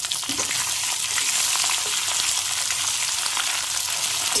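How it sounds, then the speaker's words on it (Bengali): Onions and tomatoes fry in hot oil in a pan, giving a steady, close, loud sizzle with faint stirring throughout and no voices. "পেঁয়াজটা লাল লাল করে ভাজা হয়ে গেছে, এবার আমি এই 2 রকমের টমেটোটা এর মধ্যে দিয়ে দিচ্ছি"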